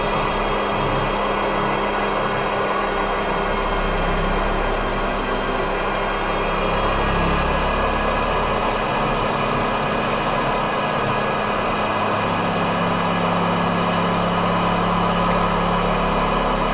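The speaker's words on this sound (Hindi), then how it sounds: "ये खाली गियर चल रहा है" A gear mechanism on an animal-powered pulley-and-belt machine runs with no load, giving a steady, continuous mechanical hum and whir at even loudness throughout, with no talk.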